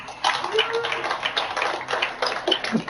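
A crowd claps scattered, moderate applause for a few seconds, with voices murmuring and calling out underneath.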